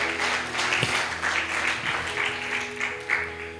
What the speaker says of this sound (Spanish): Dale fuertes palmas de alabanza.